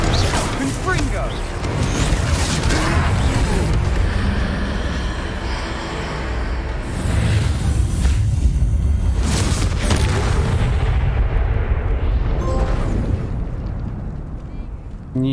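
Confringo fire spell blasting in the Hogwarts Legacy video game during a troll fight: loud, roaring explosive bursts that swell around the middle of the clip over a constant rumbling game soundscape.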